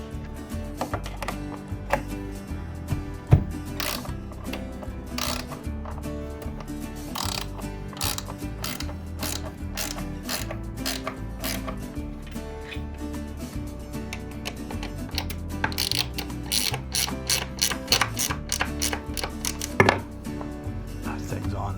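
A ratcheting wrench tightens bolts on a mid-century modern floating console table, producing rapid, steady mechanical clicking close up, with occasional louder knocks and clanks throughout.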